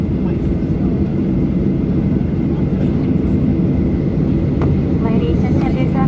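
Ryanair Boeing 737-800 taking off from Dublin Airport, heard from inside the cabin as a loud, steady low engine roar that holds throughout with faint chimes and cabin noise above it.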